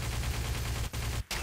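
UMP-45 submachine gun fire in Counter-Strike: Source, a dense, rapid burst of close, loud shots with two brief breaks, no voices.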